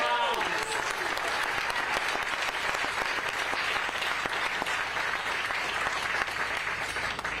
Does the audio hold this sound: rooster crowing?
no